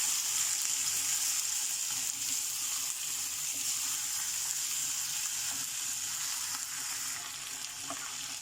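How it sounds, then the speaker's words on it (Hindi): Chicken fries with whole spices in a pan, giving a steady, close, even sizzle with faint stirring scrapes throughout and no talking. "अब इन मसालों के साथ चिकन हमारा फ्राई होगा।"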